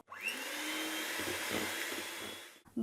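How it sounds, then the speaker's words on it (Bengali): An electric hand mixer whirs steadily while beating eggless cake batter, a close, loud, continuous motor whine that starts abruptly and cuts off near the end, with no talking. "এখন এটাকে আবার এক থেকে দু মিনিটের মতো একটু বিট করে নিচ্ছি"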